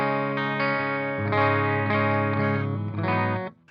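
Sustained electric guitar chords ring through the clean channel of a PRS MT15 tube amp, several strummed changes with bright harmonics and a slight chorus-like shimmer, played alone before cutting off.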